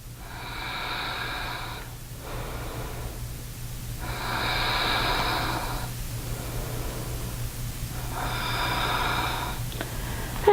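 Slow, deep yoga breaths during a vinyasa flow, three long airy inhale-exhale cycles spaced evenly and heard close up.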